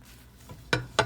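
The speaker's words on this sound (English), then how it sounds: "So what you do is you just mix it all around. Make sure they all get coated in that butter." Marshmallows being stirred into melted butter in a pot, heard as two brief spoon-on-pot scrapes and clinks close by after a quiet stretch.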